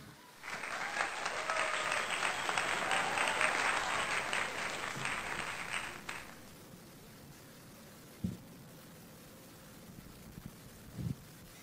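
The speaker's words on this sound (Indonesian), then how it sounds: "Boleh kita sambut Ibu Mika Lolong dengan tepuk tangan." A church gathering applauds to welcome speaker Ibu Mika Lolong, a few seconds of moderate clapping that fades out, leaving quiet room tone with a couple of soft thumps.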